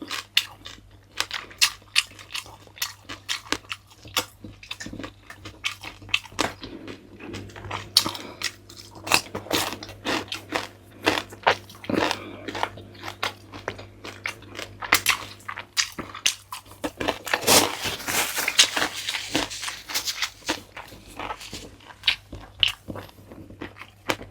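Close, loud crunching of crispy pata, deep-fried pork knuckle, as someone bites and chews steadily through the crackling skin, with sharp irregular crackles and no talking.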